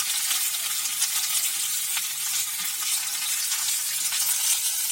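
A generous handful of grated coconut fries in a pan with a continuous, even, close sizzle, a bright steady crackle and no voices.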